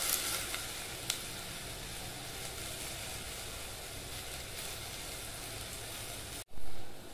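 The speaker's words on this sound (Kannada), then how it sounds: "ಕಾಳನ್ನ ಚೆನ್ನಾಗಿ ಹುರ್ಕೋಬೇಕು." Field beans roast with salt in a pan, giving off a steady, close, dense sizzle throughout that breaks off abruptly near the end.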